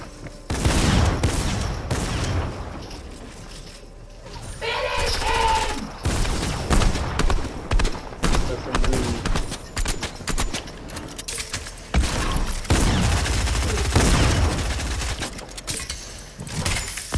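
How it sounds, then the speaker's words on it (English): Shotgun fire rings out in the video game Fortnite: repeated loud, sharp blasts in irregular bursts over a busy background of gameplay noise that continues throughout. "Motherfucker hit that shotgun to the chest!"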